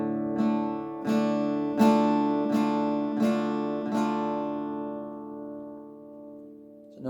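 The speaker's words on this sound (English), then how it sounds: "And when we strum them, it will sound like this." A minor chord strummed on an acoustic guitar, open minor chord shape: six loud downstrokes at a steady pulse, each ringing on and fading over the last seconds, played alone with no talk.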